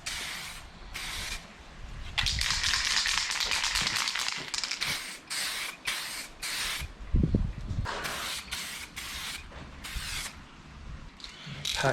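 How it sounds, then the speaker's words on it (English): Aerosol spray paint hissing in repeated short bursts onto a Honda Accord (Acura TSX Type S CU2) rear window visor outdoors on a cold day, with light tapping and handling sounds between passes. "Again, test spray, nice and glossy."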